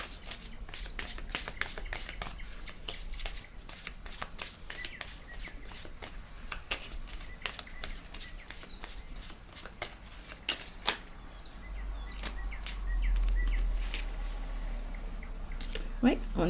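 Tarot or oracle cards are shuffled by hand during a card reading, with a rapid run of crisp flicking riffles that thins out partway through, close and under a quiet voice.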